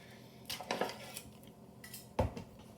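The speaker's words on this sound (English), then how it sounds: "open up my panko" Crinkly plastic handling and a few clinks as a container of panko breadcrumbs is opened in a home kitchen, a couple of short bursts of rustling near the mic with quiet gaps between.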